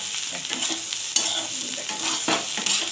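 Spiny gourd (kakrol) and potatoes fry with poppy seeds, nigella, and green and dry chillies, giving a continuous close sizzle with scraping stir strokes and a few sharper clinks of the utensil against the pan.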